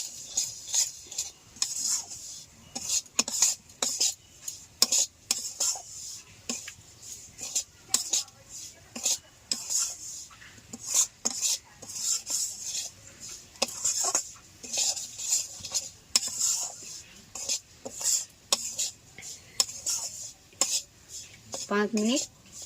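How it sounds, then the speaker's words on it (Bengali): Semolina dry-roasting over very low heat in a pan, stirred steadily with a utensil: a near, continuous run of rhythmic scraping strokes with light clinks against the pan. "সুজিগুলো নাড়তে থাকতে হবে যাতে লাল না হয়ে যায়, খুব সামান্য জাল দিয়ে নাড়তেই থাকতে হবে।"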